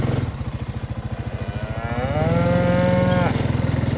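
A cow moos once on a farm, a loud drawn-out call over the steady chugging of a nearby quad bike engine.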